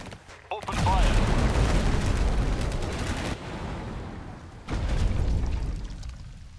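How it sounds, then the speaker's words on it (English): Gunfire in the real-time strategy game Tempest Rising, two dense bursts of rapid automatic fire with heavy booming blasts, separated by a brief quieter gap. "Open fire."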